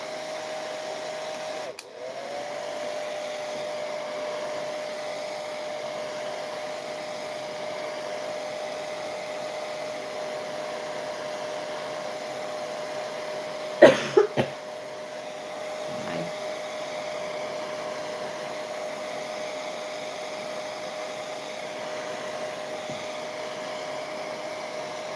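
A hair dryer drying a coat of paint on a recycling craft project runs steadily at close range with an even whoosh, broken by a brief knock partway through.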